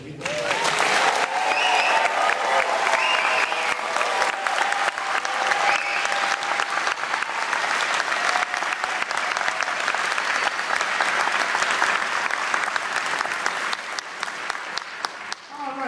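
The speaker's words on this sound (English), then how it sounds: "give a rousing, and I mean a rousing, and I'll say it again, rousing applause for the folks that did the real work this weekend" Sustained audience applause after a junior high band concert, dense loud clapping filling the hall for the whole stretch, with faint voices mixed in.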